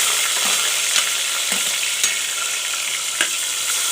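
Chopped tomato fries in a pan with cumin, a loud close sizzle that stays steady, broken by a few light clicks of stirring.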